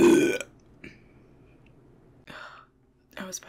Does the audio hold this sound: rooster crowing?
no